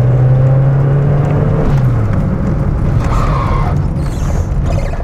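Peugeot 205 without ABS braking hard in the middle of a road, a loud tyre squeal and skid that falls in pitch over the first two seconds, followed by engine and road noise.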